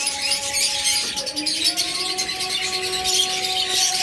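A pair of Japanese budgerigars chirps close by with a run of quick, bright tweets and a few longer whistled notes over a soft background hum.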